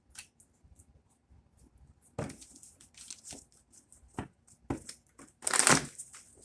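A deck of tarot cards shuffled in bursts, with soft riffling and papery slaps growing louder toward the end, close and fairly quiet.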